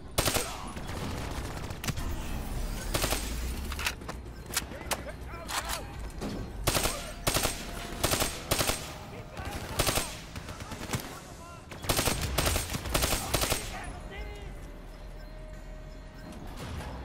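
Rapid gunfire from a Call of Duty: Black Ops III firefight: repeated bursts of automatic fire and sharp single shots, loud and close, set against dense background battle noise.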